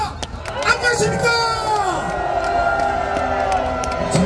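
A crowd at a political rally cheers and shouts, voices rising into loud whoops and harmonic yells over a dense babble, with scattered claps throughout.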